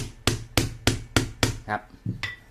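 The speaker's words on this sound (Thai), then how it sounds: "เดี๋ยวเคาะเคาะจนหัวน็อตมันโผล่นะครับ" A hammer strikes a bolt repeatedly to drive it out of a Toyota Avanza 1.3 alternator during a bearing replacement. About seven sharp, evenly spaced metallic knocks ring out close and loud.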